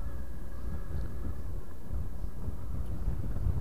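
Steady, loud wind buffeting and roar across a motorbike rider's microphone, a continuous low rumble with no breaks and no talking.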